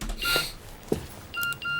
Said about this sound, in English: it's another text message